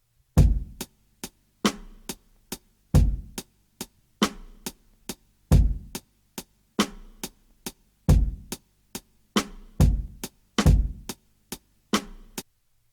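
A vintage-style drum beat in 6/8 time loops steadily for about thirteen seconds, with crisp repeating hits and a lilting triple feel, moderately loud and with no voices.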